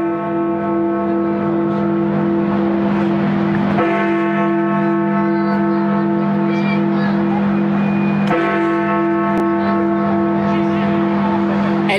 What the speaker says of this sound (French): si la cloche de la tour de Westminster retentit